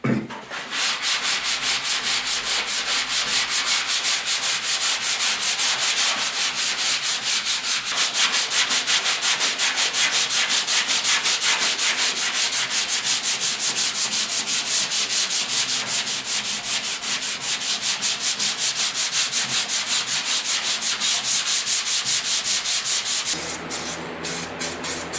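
A power sander with 320-grit paper works steadily over the hood of a 1956 Ford pickup, a loud continuous close whir and scrape with rapid rhythmic pulsing, easing off briefly at the end.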